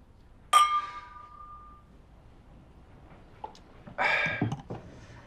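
Glasses clink together in a toast at a celebration, one bright ringing clink that fades slowly, followed a few seconds later by a second, rougher burst of glassy clinking in a quiet room.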